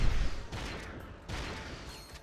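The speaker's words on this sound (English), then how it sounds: "Blitz gun." The Blitz gun in Ratchet & Clank 2: Going Commando fires a couple of quick, close, loud bursts that crackle and then fade.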